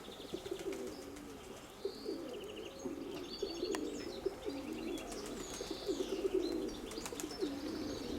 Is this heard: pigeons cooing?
yes